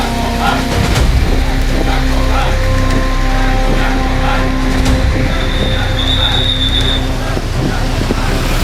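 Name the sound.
heavy rain pouring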